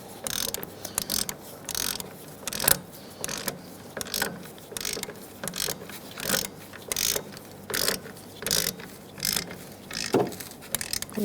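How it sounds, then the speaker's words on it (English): A 14 millimeter ratchet tightens wheel hub bolts on a 2010-2013 Kia Soul during rear hub replacement, clicking in quick repeated bursts with short pauses between strokes, close and clear with no speech. "we are going to start tightening our bolts down"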